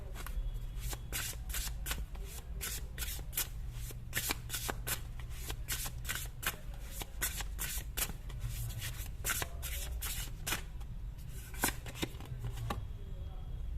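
Tarot cards being shuffled rapidly and continuously, a dense run of crisp riffling and slapping card sounds close up, with occasional quiet speech underneath.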